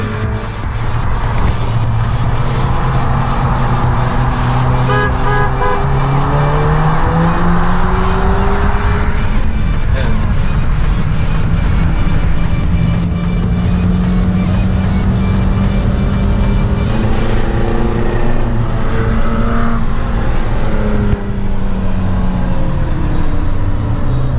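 Cars rolling along, including a Ford Fiesta S, Seat Leon FR, a 1.7 DTi and a BMW E30 320, with a steady loud engine drone and changing pitch that continues throughout, no speech.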